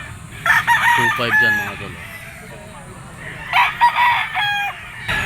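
A yellow-legged straight-comb rooster crows twice nearby, each crow a loud strained call, while someone talks between and around them.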